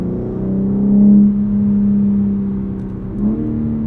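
A 2021 BMW M3 Competition engine revs loudly and close, climbing to a peak, easing into a sustained drone, then surging briefly again with no voices over it.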